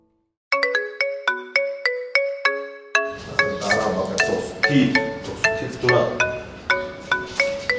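A melodic electronic ringtone repeats its short chiming phrase over and over, loud and close, with background noise joining partway through.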